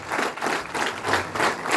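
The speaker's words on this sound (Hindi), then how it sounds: "तालियां बजती रहें।" Hearty applause fills a university hall during a National Sports Day ceremony, a short stretch of continuous, close, energetic clapping with no voices.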